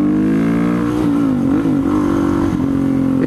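A supermoto motorcycle engine revs loud and close, held high with wavering pitch as the rider slips the clutch quickly for a wheelie, the engine note dipping and rising again without any talk.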